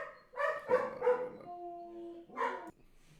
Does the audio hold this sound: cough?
no